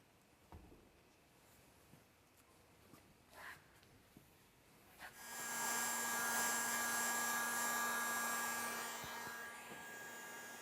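A heat gun switches on with a click and blows steadily while warming car wrap film at a seam, a loud continuous fan roar with a faint tonal whine, after a few quiet handling taps.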